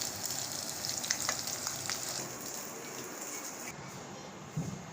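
Potato tikki fry in oil in a pan with a steady, soft sizzle and faint crackles, a gentle continuous frying sound with no talk.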